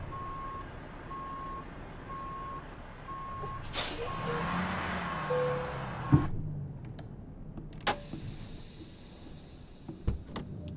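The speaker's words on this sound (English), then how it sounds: "do the air brakes sound louder than they used to be?" In the video game American Truck Simulator, a heavy truck idles with a sharp hiss of air brakes releasing, followed by a few clunks and softer pneumatic puffs; a faint intermittent beep sounds early on.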